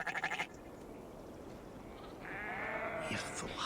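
Sheep bleating in the Assassin's Creed Valhalla game world, a short burst at the start and a longer bleat near the end over a low steady ambient bed, moderately loud and with no talk.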